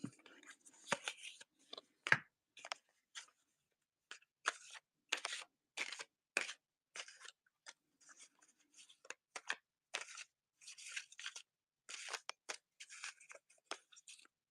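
Vintage Magic: The Gathering trading cards are shuffled by hand in a long series of short, crisp riffles and snaps with brief pauses between them, close and fairly quiet.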